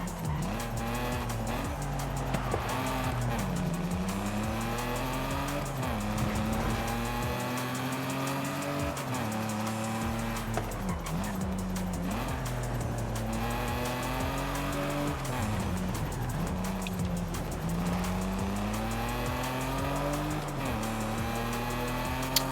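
Car engine roaring under heavy throttle in Forza Horizon 5, revs rising and falling in repeated sweeps with tire squeal and skidding, loud and continuous throughout.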